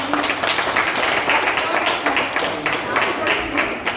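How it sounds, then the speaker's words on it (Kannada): A hall audience breaks into loud applause, dense rapid clapping in rolling bursts that stays strong throughout, close and full. "ಜೋರಾದ ಚಪ್ಪಾಳೆ ಒಂದು"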